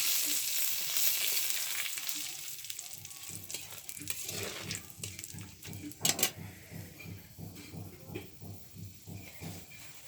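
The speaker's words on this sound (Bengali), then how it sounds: "তেল গরম হয়ে গিয়েছে, এবার কিছু এলাচ, দারচিনি, লবঙ্গ, তেজপাতা ফোড়নে দিয়ে দেব।" Whole cardamom, cinnamon, cloves and bay leaves crackle and sizzle in hot oil in a village kitchen, with rhythmic scraping from stirring and a few sharper pops, close and fairly loud.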